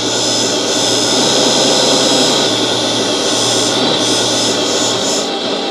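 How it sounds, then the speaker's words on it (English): Simulated diesel engine from a light and sound unit fitted to a Tamiya RC semi truck, a steady loud drone with a low hum that holds through the whole stretch as the throttle changes motor speed, with no talk over it. "if I use the throttle, so you can see that's changing the motor speed, but it's also changing the sound"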